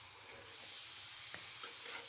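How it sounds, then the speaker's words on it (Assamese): Chicken meat with masala, potato and onion sizzling in a pan, a steady hissing fry that jumps louder after a moment, with a faint stir or scrape partway through and no voices. "একদম মছলাটো একেবাৰে ভাজি ল'ম"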